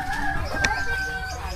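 Chickens at a backyard where tethered fowl are kept, with a rooster crowing briefly amid soft clucking, close and moderately loud over a low background hum.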